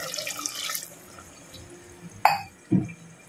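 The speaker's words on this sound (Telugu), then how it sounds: "ఈ పాయింట్ ఆఫ్ టైంలో ఇందులో వాటర్ యాడ్ చేయాలండి." Water poured into a simmering chicken gravy curry splashes briefly at first, then quiets, followed by two sharp clinks of a utensil against the pot.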